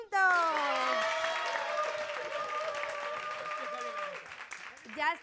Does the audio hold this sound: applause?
yes